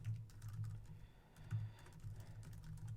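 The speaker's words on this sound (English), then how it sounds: "we will type in our email address" Steady run of soft keystrokes on a computer keyboard as an email address is typed, quick irregular clicks close up over a low background hum.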